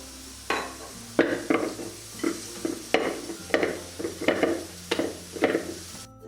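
Parotta flour dough is worked by hand with oil, giving a run of about ten soft, wet squelching slaps in a steady rhythm, close and moderately loud with no talk.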